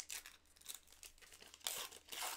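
Lorcana starter deck card packaging is torn open up close, with several quick ripping and crinkling bursts of plastic and paper and a louder tear near the end.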